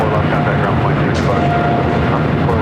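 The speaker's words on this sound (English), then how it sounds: "We do have a couple of heavy takeoffs happening now on the south side." A heavy jet airliner takes off from the south side of LAX, a steady, loud broadband engine roar that holds unbroken throughout.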